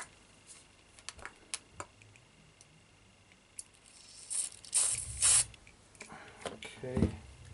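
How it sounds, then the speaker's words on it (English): A sharp hiss of an aerosol lubricant can spraying into a shutter lock in a couple of short bursts, preceded by scattered small clicks and handling noises. "we should put a little bit of spray in there"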